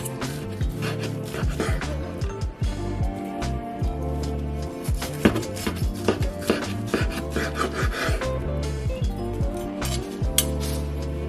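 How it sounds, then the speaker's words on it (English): A knife slices through herb roasted turkey breast, giving repeated soft cutting and scraping strokes with light clinks against a board or plate, close and steady throughout. "And this is super easy to cut. My knife is gliding through it."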